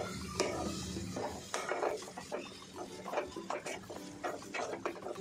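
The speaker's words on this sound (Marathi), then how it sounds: "मिक्स करूया." Boiled sweet corn for chaat being stirred in a bowl, soft repeated clinks and scrapes of a spoon at an uneven rhythm, fairly quiet and near.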